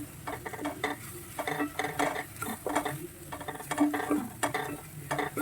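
Soya chunks being stirred into gravy in a pan, giving quiet, irregular scraping and clinking strokes of a spoon against metal over a soft sizzle, close by and with no talking.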